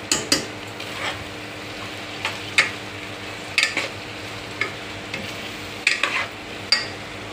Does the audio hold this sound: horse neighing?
no